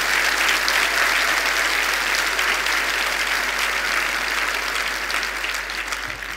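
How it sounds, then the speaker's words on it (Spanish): A church congregation claps loudly during a worship service, a dense, continuous wash of applause that holds steady for several seconds and fades a little toward the end. "denle un aplauso fuerte al Señor."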